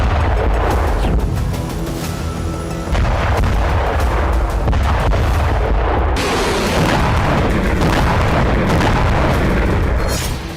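Missile and drone strikes detonate in Russia, with heavy booming explosions and continuous roaring blasts layered close together, one after another, with no voices.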